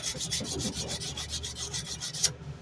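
Wood is sanded by hand with sandpaper in quick, even back-and-forth strokes, about a dozen rhythmic raspy swishes, close and clear, ending abruptly with no talking.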